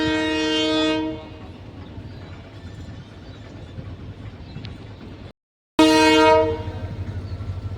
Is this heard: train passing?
yes